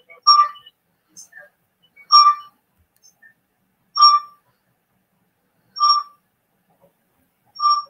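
A short two-tone notification chime sounds five times at steady intervals about two seconds apart, clear and fairly loud, with no talking.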